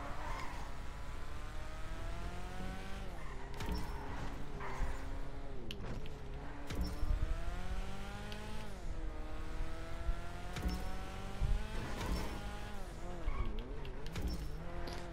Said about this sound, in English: So I hit him by accident and my car literally spins out.